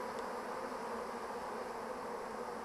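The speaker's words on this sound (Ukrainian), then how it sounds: "Все, бджоли піднімаються" A rising honeybee swarm fills the air with a dense, continuous buzz, steady and fairly faint, with no voices.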